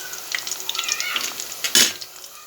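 Pieces for aavakaya mango pickle frying in hot oil, a steady close sizzle with scattered crackles and a sharper burst of spattering near the end.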